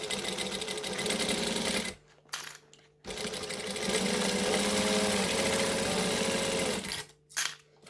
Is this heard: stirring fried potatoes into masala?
no